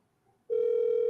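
Outgoing telephone call: a brief quiet pause, then a loud, steady electronic ringback tone starts suddenly and holds to the end.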